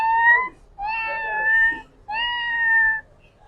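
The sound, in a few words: child imitating a cat meowing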